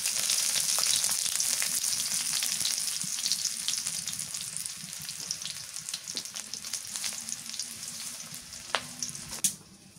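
Chopped onion frying in a pan, a steady dense sizzle running throughout with scattered crackles and a couple of sharper pops near the end, no talking.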